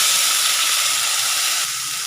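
Tomatoes dropped into hot oil with green chillies, curry leaves and asafoetida for Kathiyawadi sev tameta curry, a steady close sizzle that stays even throughout and eases slightly near the end.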